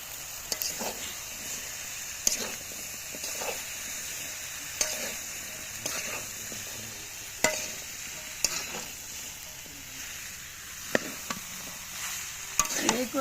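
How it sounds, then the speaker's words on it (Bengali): Taro stolons (kochur loti) sizzle steadily in hot oil, with a close, continuous frying hiss broken by sharp, irregular clacks of a utensil stirring the pan. "এখন আমি কচুর লতিটা দিয়ে দিলাম।"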